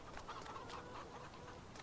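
Soft, faint chicken clucks from the video game Farming Simulator 19 repeat in short bursts over a steady hiss of background noise.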